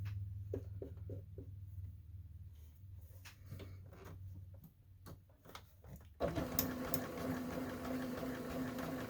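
A sewing machine stitches fabric in a quiet room, giving short whirring runs with soft mechanical taps, then a louder, fuller whir near the end as the stitching speeds up.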